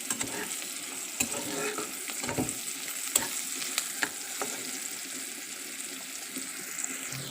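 Oil sizzles in a pan before spinach goes in, a continuous close frying hiss broken by sharp clicks and scrapes of a spoon stirring, with no talking.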